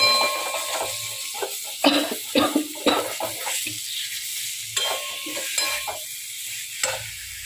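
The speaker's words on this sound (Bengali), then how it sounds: "আলুটাও ভাজা হয়ে গেছে" Potatoes fry with spices in a pan, a steady close sizzle broken by repeated scraping and clacking strokes of a spatula stirring.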